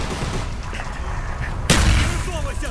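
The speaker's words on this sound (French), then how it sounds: "J'envoie une grenade!" A grenade blast in Call of Duty: Black Ops lands as a single loud, sharp explosion with a deep rumbling low end, cutting through ongoing combat noise.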